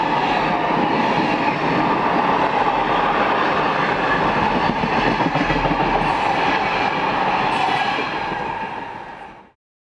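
A Swiss Class 620 Re6/6 electric locomotive heads a northbound train on the Gotthard route, passing close and loud with a continuous heavy rumble and rail clatter that cuts off abruptly at the end.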